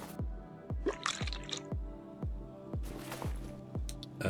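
Fluid drains from a car in Car Mechanic Simulator 2021, heard as steady, evenly spaced drips, about eight per four seconds, each a soft low plop, with brief watery squishes and splashes between them.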